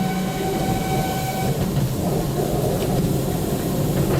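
A train rumbles steadily along the rails in Tierra del Fuego National Park, Ushuaia, Argentina, with a continuous loud roar and faint clacking, no voices.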